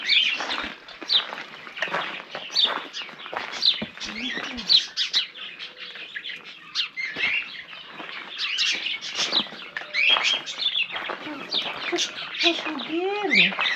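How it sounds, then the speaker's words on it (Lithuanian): Many small birds chirp and twitter in quick, overlapping bursts throughout, close and lively, in a fenced residential courtyard in Eguisheim, France. "Paukščiai kaip čiulba, tada."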